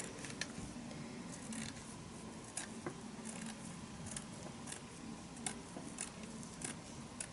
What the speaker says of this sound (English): So what I'll do is I'll cut this in half